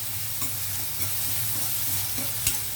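Potato and drumstick curry ingredients fry steadily in a pan with a low, continuous sizzle, broken by a few soft stirring scrapes and one sharper clink near the end; nobody speaks.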